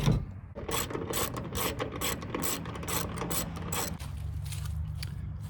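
A ratchet clicks steadily while unscrewing fasteners from the roof plastic of a Honda Element. The close, rhythmic pawl clatter runs throughout with a brief change in tone partway through.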